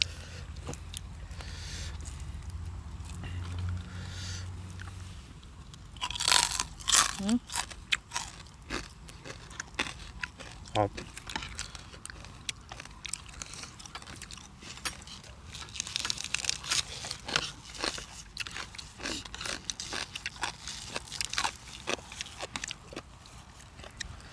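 Loud, close crunching and chewing of homemade crispy pork belly, eaten with papaya salad and pickled crab, as repeated crackling bites come in bursts over a background hum.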